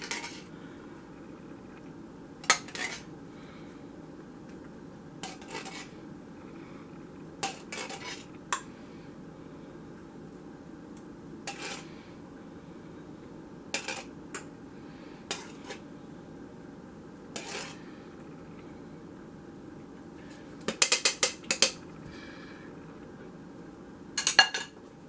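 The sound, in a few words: spooning leftover sauce over stuffed cabbage in a dish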